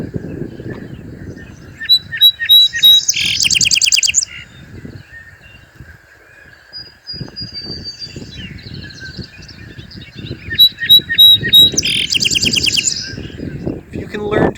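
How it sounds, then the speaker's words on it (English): A song sparrow sings twice, each song opening with a few sharp chips, then a trill and a jumbled flourish, clear over faint background noise in a Pioneer Valley setting. "The song of the song sparrow is typically 3 or 4 chips, followed by a trill, followed by a jumble of other noises."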